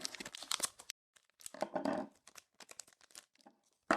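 Foil hockey card pack torn open by hand, a few sharp crinkling, ripping bursts with brief pauses between, close and fairly loud.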